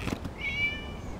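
Cat meowing in the Genshin Impact video game, a single short, clear meow rising over a soft background ambience, with no talk.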